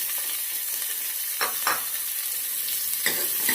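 Onions frying in hot oil with cloves, cardamom and bay leaf, cooking for a chana masala gravy: a steady close sizzle runs throughout, with a few brief stirring scrapes breaking through it.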